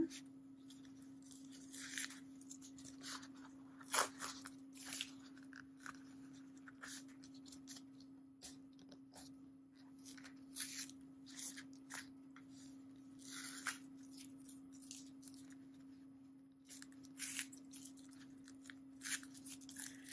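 Quiet, intermittent snips and soft crunches of scissors cutting through embroidered fabric close to the stitching, close by, with a steady low hum underneath and no talking.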